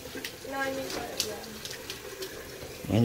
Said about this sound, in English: We need to let the water run for about 5 gallons.